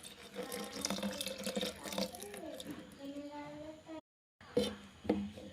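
Water runs from a tap to rinse a grinder jar used for dosa batter of ground urad dal and rice, a steady splashing stream close by with a voice talking over it, briefly cut off, then resuming.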